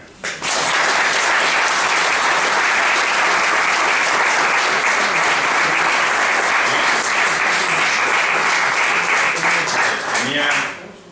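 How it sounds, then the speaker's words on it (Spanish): Sustained applause from an audience at a tribute talk honoring a doctor, filling the room densely and evenly for about ten seconds before tapering off at the end. "un aplauso y lo vuelvo a pedir ahora"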